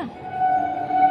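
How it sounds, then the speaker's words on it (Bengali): A loud train rumbles past behind bushes near a house, with a steady droning tone and grinding rail noise, heard alone for a brief moment. "ট্রেনের আওয়াজ পাচ্ছ?"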